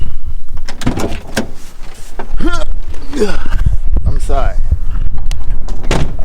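A person climbs out of a very low-slung car, with door and body-movement clunks mixed in while they talk over it.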